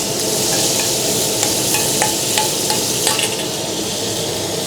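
Seafood curry stir-fry mixture sizzles steadily in a hot wok, a loud continuous frying hiss broken by a few sharp spatula scrapes and clinks.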